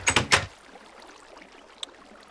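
Doors being placed in Minecraft, a quick cluster of three wooden clunks at the start and then a single faint click later, with near silence between them.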